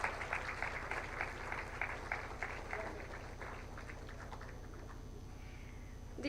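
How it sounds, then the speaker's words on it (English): Audience at an intellectual property award ceremony applauding the awardees, a dense patter of clapping that fades to quiet after about three seconds. "Let's have a warm round of applause for all the awardees."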